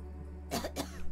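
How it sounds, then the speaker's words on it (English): Two quick coughs from a female character in the video game The Slater, close and fairly loud against a low steady background hum, with a small extra rasp at the very end. "It's amazing that you're coughing without opening your fucking lips."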